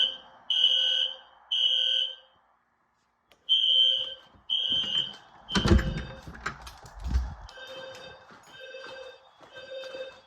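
Shrill fire alarms beep in repeated pulses during a no-power system test, pause briefly, then resume while a clunk and some rattling handling noises break in midway.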